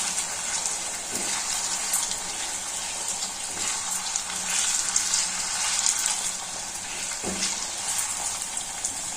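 Brinjal and onion frying in oil for a tamarind-leaf brinjal fry, giving a steady, close hiss and sizzle with no talk, and a few faint pops and clinks rising now and then.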